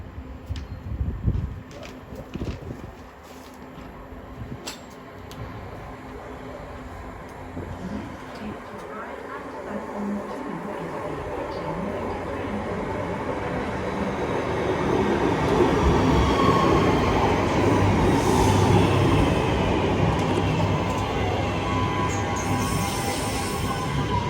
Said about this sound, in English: Next train to arrive is class 323